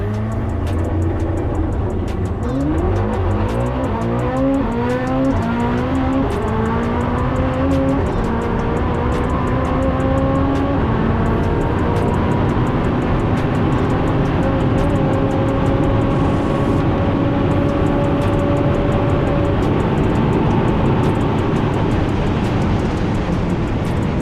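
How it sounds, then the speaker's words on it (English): Koenigsegg Jesko Absolut, a rear-wheel-drive twin-turbo V8 hypercar, roars loudly and continuously as it accelerates hard through rising gears at very high speed on a 0-400-0 km/h record run, engine pitch climbing again and again. "This is a two-wheel, rear-wheel drive, twin-turbo V8 defeating an"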